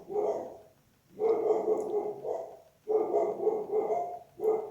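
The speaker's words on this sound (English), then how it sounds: "Sorry about the dogs" Dogs bark in repeated loud bursts, three long volleys of overlapping barking separated by short pauses, close by and with no talking over them.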